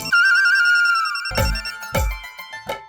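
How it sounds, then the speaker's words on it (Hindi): A phone ringtone plays a repeating electronic melody, loud and close, then gives way to a few sharp thumps and knocks toward the end. "अरे भाई फोन बज रहा है,"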